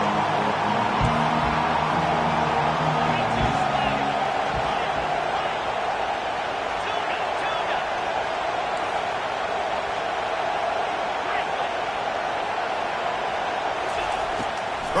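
A football stadium crowd roars steadily to back the defense on a big third down, a loud sustained wash of cheering that fills the whole stretch.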